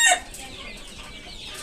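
Domestic desi chickens being raised for meat cluck softly nearby, with a brief sharp call at the very start.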